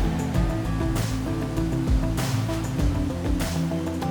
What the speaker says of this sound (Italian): Nel centro storico di Isola del Liri ci sono ben 2 cascate